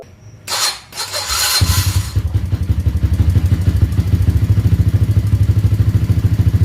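Kawasaki KLX 150 motorcycle fitted with a new heavy-duty one-way starter bearing: a short whir and clatter of the starter, then the engine catches and settles into a loud, close, steady rhythmic idle.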